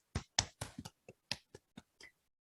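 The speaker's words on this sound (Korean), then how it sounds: "원장님 서로에게 보내주신 박수예요." A few people at a daycare directors' meeting clap for one another: about nine sparse, separate claps close by, irregularly spaced, then quiet.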